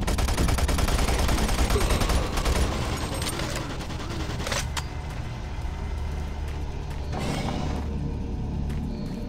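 Automated turret guns in Doom 3 on the monorail level hammer out dense, sustained rapid fire, layered with mechanical clatter and a steady low rumble that thins out and grows more sporadic toward the end.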